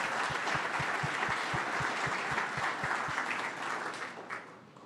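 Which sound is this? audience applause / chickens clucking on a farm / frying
audience applause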